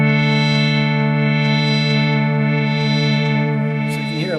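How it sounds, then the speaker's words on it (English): A Waldorf Quantum MKII synthesizer holding a sustained buzzy chord while its filter resonance is swept in and out by channel aftertouch, giving a steady wavering, shimmering tone throughout. "you can hear a little bit of that resonance coming in and out"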